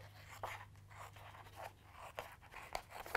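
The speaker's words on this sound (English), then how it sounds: "I'm actually just going to use my scissors for this part." Scissors cut through a chipboard fox cutout for a wooden shadow box kit. The snips come as soft, close, crunchy rasps, quiet and uneven in rhythm.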